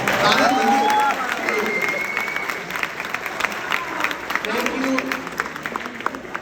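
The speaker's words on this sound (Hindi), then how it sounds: "पर तालियां ऐसी बजाओ कवि कहे क्या बात है।" Audience applause at a live Hindi poetry and comedy recital, a steady wash of clapping from a crowd that fades somewhat, with a voice and whistles riding over it.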